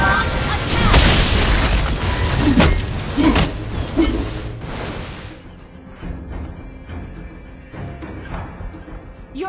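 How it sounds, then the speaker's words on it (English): A turret is destroyed in a video game, heard as a run of loud, deep booms and bursts in the first half, then a quieter rumbling tail, with voices mixed in. "Your team destroyed a turret!"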